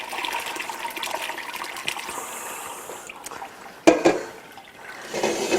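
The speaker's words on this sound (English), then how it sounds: "We can just pour off our whey." Liquid whey pours off fresh cheese curds during home cheese making, a steady splashing trickle of liquid that runs for several seconds, with a sharper splash partway through and no talking.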